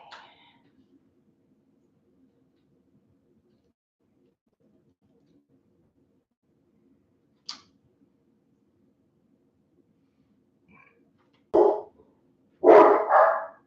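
Dogs indoors bark during a storm: a few isolated short sounds early on, then two loud close barks near the end, with long near-silence between.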